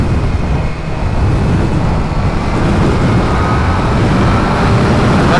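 A rider's new dream motorcycle, still in break-in, is ridden and accelerated on the road. Its engine blends into a steady, dense roar of wind and road noise that fills the whole clip, loud and continuous, with no talking.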